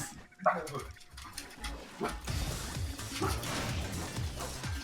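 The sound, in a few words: dogs freaking out, barking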